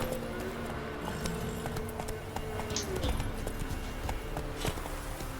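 A horse in The Witcher 3 gallops with a quick, steady clip-clop of hooves, moderately close and slightly muffled over a low rumble of background ambience.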